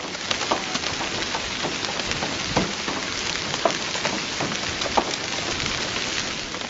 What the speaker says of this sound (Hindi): सऊदी अरब में बारिशों ने दूसरे हफ्ते भी खूब जलथल मचाई।